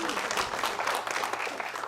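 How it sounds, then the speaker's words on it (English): A room full of people applauds at a martial arts family talk, sustained clapping filling the short moment with some voices mixed in. "Round of applause for him."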